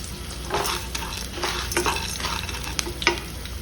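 Chana dal, fenugreek, cumin and mustard seeds fry in oil for sambar, a steady sizzle broken by repeated sharp scraping strokes of a spoon stirring the pan, close and fairly loud.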